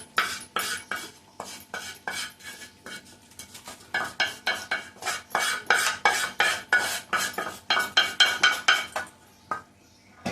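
Metal spoon stirring and scraping in a pan as asafoetida and turmeric fry for tomato rasam: a rapid run of sharp, close clinks and scrapes in uneven bursts, with a faint sizzle underneath.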